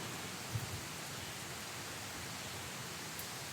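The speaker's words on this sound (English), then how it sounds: "It's raining like heck all of a sudden." Heavy rain pours steadily during a sudden storm, heard from a covered porch as a continuous, even hiss of falling water that stays fairly faint and unbroken throughout.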